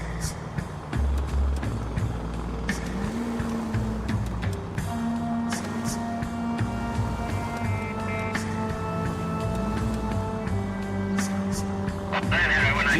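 Video game car engine droning steadily while tailing a green car in L.A. Noire, a low continuous hum with shifting pitch and faint beeps, no speech over it.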